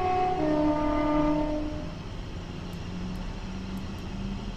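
A Class 350 electric train in Train Simulator 2015 begins rolling on the Stafford to Rugby line, with tonal electric motor whine gliding upward, then a steady low rumble of wheels on track and faint high ticks.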